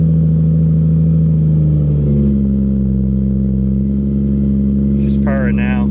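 A turbocharged 2J-engined car fitted with a Precision 6767 turbo idles steadily on a cold engine, a loud, even low rumble throughout, with a brief voice near the end.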